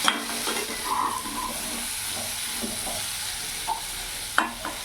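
A drumstick curry with turmeric and Kashmiri chilli powder is stirred in a sizzling pan, a spoon scraping and clinking against the metal over a steady frying hiss, with no voices.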